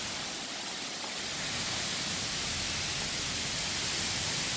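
Steady rushing water from a small waterfall inside an aviary at the KL Bird Park, a constant broadband wash that fills the scene from start to finish with no talk.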